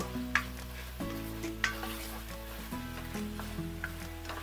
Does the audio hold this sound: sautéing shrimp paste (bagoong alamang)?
yes